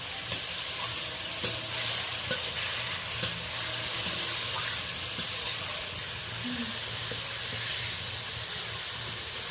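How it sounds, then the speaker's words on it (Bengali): Onions with whole garam masala stirred in hot oil in a pan for an egg korma, a steady close hiss and sizzle punctuated by regular clicks and scrapes of a spatula. "এইটা ফোড়নের সাথে গোটা গরম মশলা ফোড়ন দিয়েছিলাম, তারই সাথে আমি ভালো করে উল্টে পাল্টে ভালো করে নেড়ে নিচ্ছি।"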